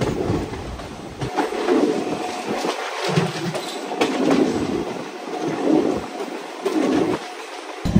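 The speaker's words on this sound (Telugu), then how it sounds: "ఇప్పుడు మన ట్రైన్ పావు మెలికలు తిరుగుద్ది, ఎందుకంటే ఘాట్ ఎక్కుతుంది కదా అటేపు ఇటేపు." Goa to Tirupati Express train climbing a winding ghat section, with a steady rumble and rhythmic clattering of wheels over rail joints heard from on board. Noise swells and dips in regular pulses, with no talking.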